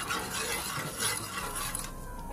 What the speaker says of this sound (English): We just literally put 2 tablespoons, as Deddy says, of the curry in the pot, mixed it up with the oil